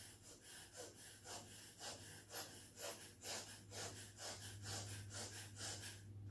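Forceful rhythmic breathing during a yoga exercise, about a dozen strong breaths in and out in a steady cycle, close and fairly quiet over a low background hum.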